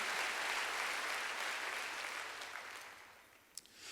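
A church congregation bursts into applause during a sermon. The clapping is broad and even at first, then gradually thins and fades, with a few scattered claps near the end.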